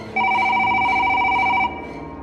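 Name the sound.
old house telephone ringing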